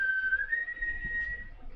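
A person imitates a whistle as if right in someone's ear: a single thin, steady tone that rises slightly and holds for a couple of seconds, clear and close over faint background rumble.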